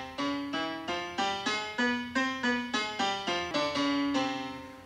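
Computer software plays a soft chromatic Byzantine scale as a clean series of about fourteen separate synthesized tones, each held briefly and stepping in pitch, evenly paced and alone with no voice.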